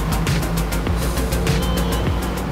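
Outboard engines on an Apreamare 35 Speedster motor boat drone steadily at speed as the throttle opens, a continuous loud hum with water rush and faint rhythmic slapping.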